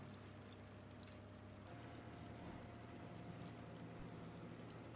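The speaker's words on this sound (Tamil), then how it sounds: "இந்த சிக்கன் நல்லா வேகிறதுக்காக 1 கப் அளவுக்கு தண்ணி ஊற்றிக்கலாம்." Water pours steadily into a pot of chicken curry in a soft, continuous rush with a faint low hum underneath, quiet and unbroken throughout.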